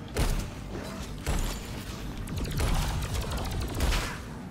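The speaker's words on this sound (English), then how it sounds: "This is the shotgun that I said was stupid powerful." A shotgun firing in the video game Alienation: a few heavy blasts spaced a second or so apart, with mechanical clattering and rattling bursts between them, dense and loud with no speech.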